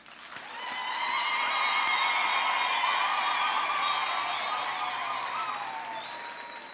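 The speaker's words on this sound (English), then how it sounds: "Let's give them a warm round of applause." A large graduation ceremony audience applauds steadily for several seconds, a dense, even wash of clapping that swells in and slowly tapers off, heard from within the hall.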